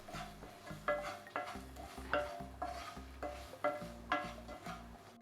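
Spoon stirring raw mango curry with chili powder in a pot, a steady run of scraping, clinking strokes repeating about once a second, close and clear with no talking.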